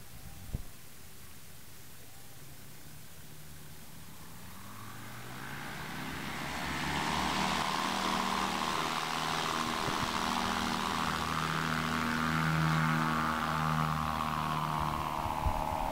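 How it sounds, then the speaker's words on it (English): A light experimental propeller aircraft taking off at a STOL demonstration at Sun 'n Fun, the engine droning steadily then swelling to a loud sustained roar as it powers up and climbs away. "Looks like we're going to try to get some of the light experimental aircraft off the line real quick."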